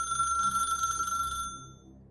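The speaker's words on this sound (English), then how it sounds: "Then the phone rang a 3rd time." An old rotary telephone's shrill mechanical bell rings in one continuous, steady burst, then cuts off and fades, heard alone and close.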